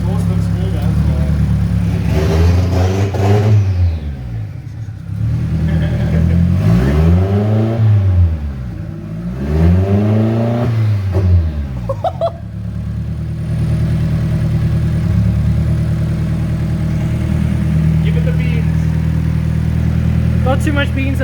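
A turbocharged Mazda Miata engine on its first start, revving in three sharp rise-and-fall bursts near the start, then settling into a steady idle, loud and close, with people talking over it.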